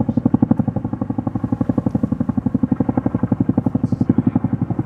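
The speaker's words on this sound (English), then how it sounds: "That's military. Is it military? That's double chopper." A military twin-rotor helicopter flies overhead, its loud, fast, steady rotor chop thudding in an even pulse throughout, with a brief voice at one point.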